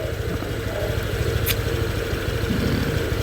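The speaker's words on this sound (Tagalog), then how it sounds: "so mo ni ang iyang tingog sa yang makina guys" A Honda Click 160 keyless scooter engine idles steadily at close range, a low, even rumble with a brief high-pitched squeak partway through.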